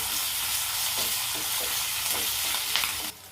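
Cumin seeds, green chillies and curry leaves fry in hot oil in a pan, giving a loud, continuous close sizzle with light stirring scrapes, cutting off abruptly near the end.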